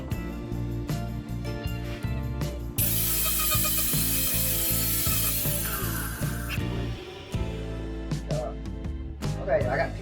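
A grinder cuts down screw heads on a party bus body, a loud harsh grinding burst lasting several seconds between sharp mechanical clicks and knocks of handling the tool.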